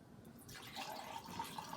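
A small amount of water is poured into a container during a sink-and-float demonstration, a faint, soft trickling splash beginning partway through and continuing quietly to the end.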